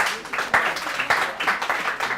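Scattered audience clapping at a show honouring a hotel-school student, irregular and moderately quiet, with distinct individual claps standing out rather than a dense roar.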